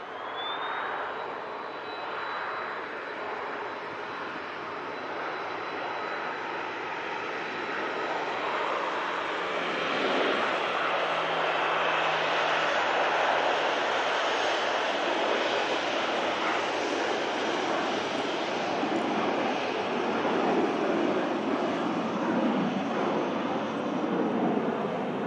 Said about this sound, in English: here is the NetJets Europe Embraer Phenom 300